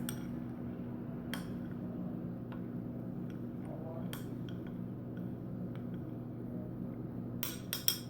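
A spoon stirs melted coconut cookie mixture in a bowl, giving scattered soft clinks and scrapes with a few sharper taps against a low steady hum, fairly quiet.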